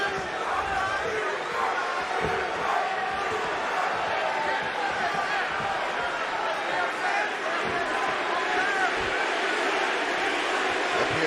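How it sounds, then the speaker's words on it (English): A steady, loud roar from the UFC 226 arena crowd cheering Stipe Miocic before his fight with Daniel Cormier, a dense wall of noise with no break for the full stretch. "Appears to be a pro-Stipe crowd here tonight."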